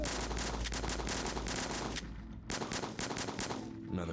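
Rapid automatic gunfire in the video game El Paso, Elsewhere, loud and continuous for about two seconds, then a brief pause before another burst of shots, with no talking.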